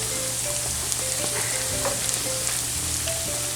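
Potato doughnuts frying in hot oil in a cast iron pot, a steady, dense sizzle holding at an even level throughout with faint clicks on top.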